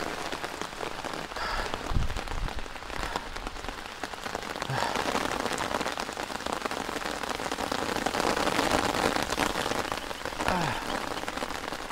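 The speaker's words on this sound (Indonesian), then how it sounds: "tiba-tiba hujan pun turun sangat lebat" Heavy rain pours down in a dense, continuous hiss of drops striking surfaces, loud and unbroken for the whole stretch, with a few heavier splatters and no speech.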